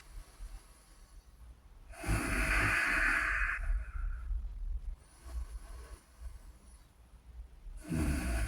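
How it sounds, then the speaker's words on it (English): Slow, deep breathing in and out during a standing tai chi meditation, with long whooshing breaths close to the microphone, quieter ones between and no talk. "And just making sure that we're just thinking about breathing and inflating that belly as we breathe in."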